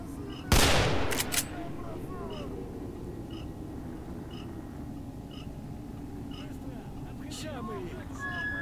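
A single loud gunshot blast in a modded S.T.A.L.K.E.R. game, sharp and close, followed by a low ambient hum with faint distant shots and scattered game sounds under quiet background.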